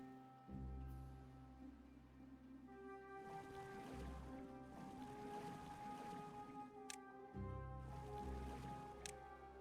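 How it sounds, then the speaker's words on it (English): Water rushing away across a farm in the beaver colony building game Timberborn, a steady wash of flowing water under sustained musical tones, with a few faint clicks, moderately quiet and continuous. "there goes all the water"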